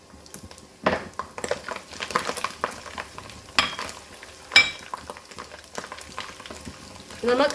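Roasted ground cumin and coriander frying in sizzling garlic-ginger paste for chickpea curry, with intermittent spoon stirring and scraping against the pan, a soft steady sizzle underneath and sharper clinks spaced through the stretch.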